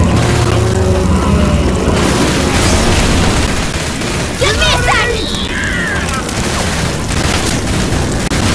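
A thrown explosive goes off in Left 4 Dead 2 with a heavy boom, set amid dense, continuous game noise and chaotic rumbling, while players talk over the action.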